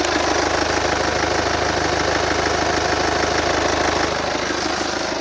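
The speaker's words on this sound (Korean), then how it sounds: "상당히 규칙적인 엔진음 들려주고 있고요" A BMW diesel SUV engine idles steadily under an open bonnet with a regular, knocking clatter and a low rumble, loud and close, with no voices.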